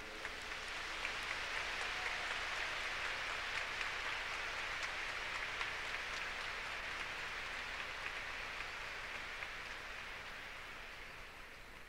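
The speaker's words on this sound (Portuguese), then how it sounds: "Então agora pode aplaudir para valer." A church congregation applauding at a Catholic gathering, a dense, even wash of many hands clapping at a distance, sustained throughout without voices.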